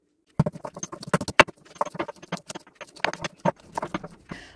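Garlic pounded in a mortar with a pestle for a raw mango gojju, producing a series of irregular, close, sharp thuds and knocks with no talk.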